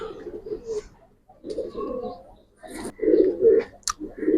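Giribaz pigeons coo in close, throaty bursts, three or four rolling phrases separated by short pauses.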